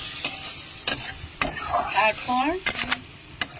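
Egg curry masala being stir-fried in a pan, a spoon scraping and stirring in separate strokes while a hiss flares up after splashes of water, close and moderately loud, with a single spoken word partway through.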